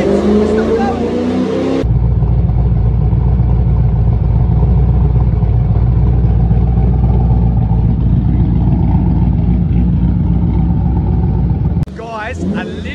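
A car with decked heads and a VCM tune roars at full throttle on a dyno pull, a loud, sustained engine howl held for about ten seconds. It is cut in and out by brief bursts of talk at either end.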